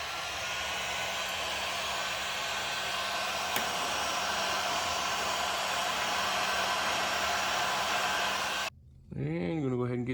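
A heat gun blows a steady, loud stream of air while warming a carbon fiber overlay for 2016+ Camaro window switch covers, running continuously and then cutting off abruptly, followed by a brief voice.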